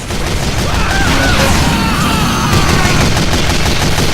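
Heavy's minigun in Team Fortress 2, a loud, continuous rapid-fire roar of gunfire sustained through the whole stretch, with faint game noise underneath.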